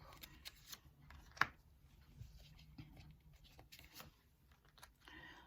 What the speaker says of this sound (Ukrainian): розкладаємо карти і потім будемо розбирати їх